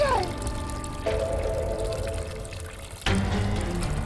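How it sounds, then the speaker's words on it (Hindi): Lots of water pours and flows steadily indoors, a continuous rushing wash with a couple of abrupt shifts, and faint voices beneath. "अरे देखो तो कितना पानी बह रहा है।"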